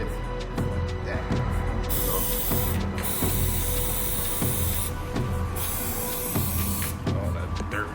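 Bug remover sprayed onto a 2022 Kawasaki ZX6R KRT Edition motorcycle in steady, loud hissing bursts, several in a row with short pauses between.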